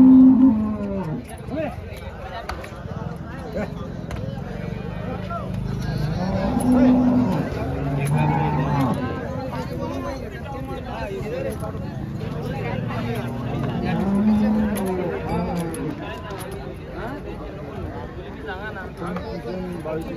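Cows mooing at a cattle market, several long, deep moos from nearby animals over a busy background of crowd chatter and someone talking close by.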